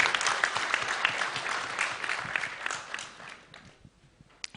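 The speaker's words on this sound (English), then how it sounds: "Please, let's clap for her." Sustained applause from a crowd at an official launch event for prosecutors' guidelines, dense and steady, tapering off toward the end.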